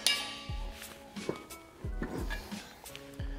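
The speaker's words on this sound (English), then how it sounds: "You can use it by hand with a wrench" Metallic clinks and a few ratcheting clicks as bolts on a Bells of Steel Mighty Grip Fat Flat weight bench 2.1 are tightened by hand with a 19 wrench, close and moderately quiet.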